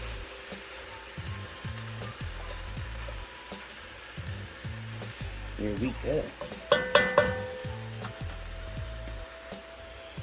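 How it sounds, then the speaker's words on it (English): Ground beef sizzles as it browns in a frying pan under repeated scraping and stirring, with a few knocks of a utensil and a brief spoken remark. "I'm breaking the ground beef up, and we're going to brown this off"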